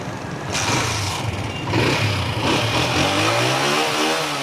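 A Honda 125 motorcycle engine runs nearby, its pitch rising and falling as the throttle is blipped a few times, then settling into a steady hum.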